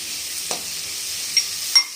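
Onions, green chili and garlic frying in a pan for mutton kothukari, a steady close sizzle with a couple of brief spoon scrapes and clicks.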